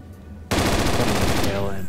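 Rapid automatic gunfire from a rifle in the zombie shooter Zombie Panic! Source, a loud sustained burst starting abruptly after a quiet moment and running steadily for about a second before fading into a ringing tail.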